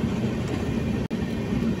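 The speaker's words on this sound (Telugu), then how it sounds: "ఏం ట్రైన్ ఇది? మారికుప్పం ఎస్బిసి అనుకుంటున్నాను." A Marikuppam–SBC MEMU train passing close by near Bangarupet, with a steady, loud rolling rumble of wagons that continues throughout, broken only by a split-second dropout in the middle.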